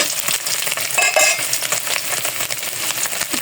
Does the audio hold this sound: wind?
no